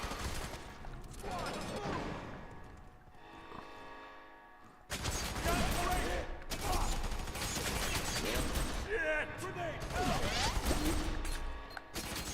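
Gunfire bursts from the F.E.A.R. 3 video game on PS3, with loud rapid automatic shots and impacts coming in several dense volleys that fill most of the stretch, interrupted by a short quieter pause.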